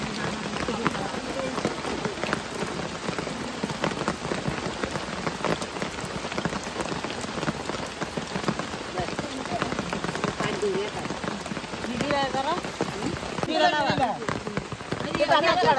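Heavy rain drums on surfaces in a village in the Konkan during the arrival of the Gauri festival, a steady close patter throughout, with people talking beneath it.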